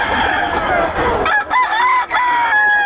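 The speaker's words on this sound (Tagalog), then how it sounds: "Ito yung manok na white." A white rooster at a Pampanga fowl sale crows loudly and close, its long wavering call rising over a noisy crowd of chatter at the start.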